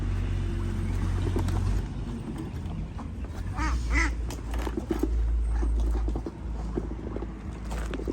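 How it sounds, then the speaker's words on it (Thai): Ducks quack in short bursts on a farm over a steady low engine-like drone, with outdoor background noise throughout. "เป็ดใหญ่เนาะ ใหญ่สุดดูว่าเป็ด"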